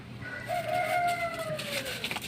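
A single drawn-out chicken call, rising then trailing off, close and fairly loud over light outdoor background noise.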